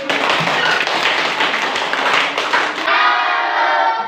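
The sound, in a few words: clapping hands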